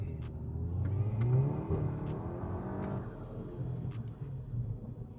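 Volkswagen Golf 7 GTI or Jetta GLI accelerating in traffic with the steering in sport mode, heard from inside the cabin as a low engine rise and swell, with faint rhythmic road ticks and clicks over the hum.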